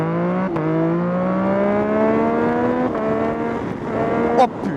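Modified Yamaha MT-09 motorcycle pulling away in second gear: a loud, close engine note climbs steadily in pitch, dips with a brief shift, then climbs again before ending in a sharp crack.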